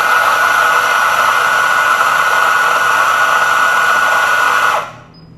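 A Molaris Invictus electric coffee grinder grinds coffee beans for espresso with a loud, steady whirring drone that holds evenly, then cuts off abruptly near the end, leaving a brief quiet tail.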